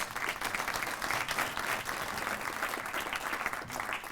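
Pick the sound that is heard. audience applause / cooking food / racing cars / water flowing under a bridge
audience applause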